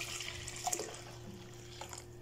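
Water poured into a fabric softener bottle to rinse it out, a short, faint gurgling trickle and splash over a low steady hum, with a couple of brief louder sloshes.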